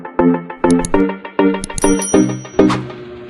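A bright bell-like notification chime rings in a quick series of plucked, ringing strikes with short decays, loud and close, with no talking.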